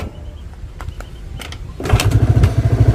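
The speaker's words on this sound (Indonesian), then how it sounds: "Bisa terdengar motornya tetap hidup." A few scattered clanks and knocks as a motorcycle is kick-started, then its small engine catches and runs loud with a fast, pulsing putter that holds steady to the end.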